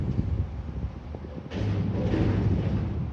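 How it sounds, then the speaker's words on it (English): A garbage truck empties a dumpster in the background, with rumbling, banging and shaking that swells into a continuous heavy roar partway through. "That sound in the background is a garbage can being emptied, the dumpster."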